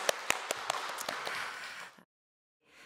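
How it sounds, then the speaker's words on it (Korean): A church congregation breaks into applause, sharp claps crowding together for about two seconds before cutting off abruptly into silence, with only a faint murmur of room sound returning afterwards. "할렐루야 성가들 격려하며 한 번 더 박수하실까요?"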